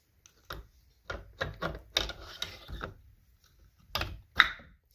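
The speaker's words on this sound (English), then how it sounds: "there's a magnet right here that attaches to the bobbin, and that's that click that you hear" A series of small, sharp mechanical clicks and taps at close range from a magnetic bobbin on a Spinolution spinning wheel, irregularly spaced, with a louder snap near the end and quiet between them.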